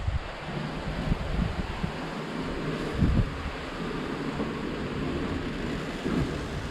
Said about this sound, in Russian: Стабильный ветер дует 20 узлов.